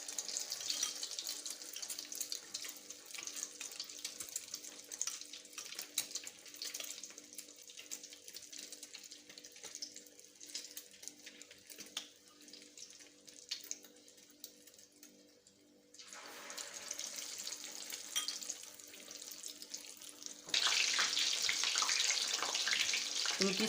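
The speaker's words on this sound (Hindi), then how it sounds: "अब मैं इनकी टिक्कियाँ जो हैं वो फ्राई कर लूँगी।" Potato cutlets (aloo tikki) frying in a pan, a continuous hissing sizzle that quiets midway, then swells louder and brighter toward the end.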